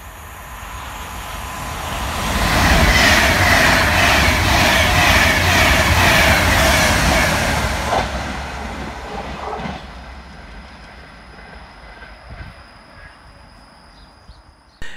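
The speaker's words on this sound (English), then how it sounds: "Up first to pass through the station will be 390-009, working 1 Alpha 29 for Avanti West Coast from Manchester Piccadilly through to London" Avanti West Coast Class 390 unit 390-009 passes through Chelford railway station at speed, a loud rushing roar with clickety-clack rising over a few seconds, then fading away into a quiet platform.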